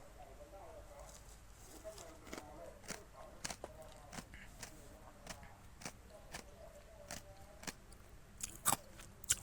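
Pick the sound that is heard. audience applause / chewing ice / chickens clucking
chewing ice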